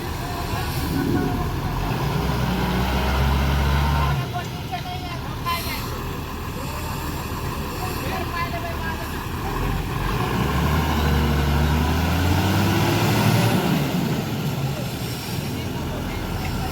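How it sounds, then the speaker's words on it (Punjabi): A tractor engine labours under heavy load while its wheels slip in mud, pulling out a stuck boring machine; the close, rough roar swells and dips in waves, with voices faintly mixed in. "ਸਲਿੱਪ ਮਾਰਦੀ ਹੈ ਸਲਿੱਪ ਟਰੈਕਟਰ ਘੜਦਾ ਹੁਣ"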